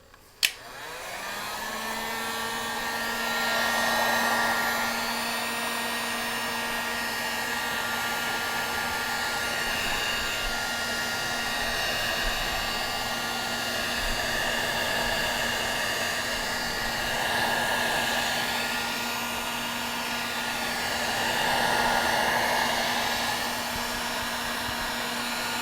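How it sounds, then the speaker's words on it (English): A basic heat gun blows hot air onto Dynamat stuck to the back of a PCB, starting with a click and then a loud, steady whooshing hum with a constant whine that swells slightly at times. "So I have a basic heat gun here. I'll just heat it up a little bit"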